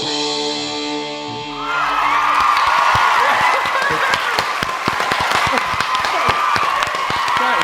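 Dense applause and clapping from a crowd, loud and continuous after a quieter opening with music, with scattered whoops and cheers mixed in.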